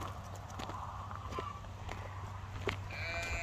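Hungry sheep bleating on a wool farm, several calls rising over a steady background hum with faint footsteps or hoof clatter, plus a longer, clearer bleat near the end.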